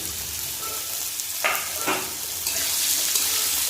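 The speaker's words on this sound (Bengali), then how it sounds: "সর্ষে ভালো ভাজা হয়ে গেছে এখন দিয়ে দেবো আলু" Diced potatoes are tipped into hot oil with fried mustard seeds, curry leaves and dried chilli, setting off a steady close sizzle with a couple of sharp bursts as they hit the pan.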